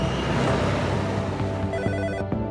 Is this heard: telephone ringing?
yes